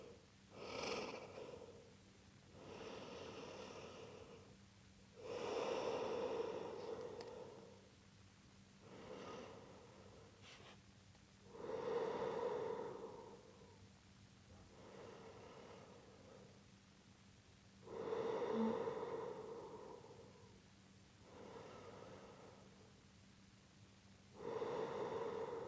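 Long, deep yoga breaths drawn in and out through the nose, about four slow, steady cycles of airy inhales and exhales, close and quiet with no talking.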